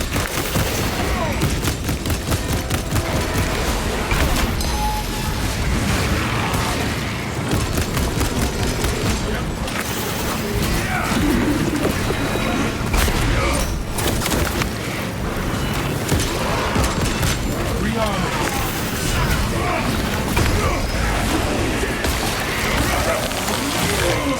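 Ordnance explosions and gunfire in Warhammer 40K Space Marine 2, a dense continuous battle din of blasts and shots with booming impacts, loud throughout and mixed with game voices.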